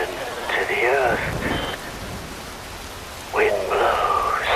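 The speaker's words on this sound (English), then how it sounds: "rain falls" Steady rain hisses across a scene in Metal Gear Rising: Revengeance, a continuous wash of falling drops under two stretches of a talking voice.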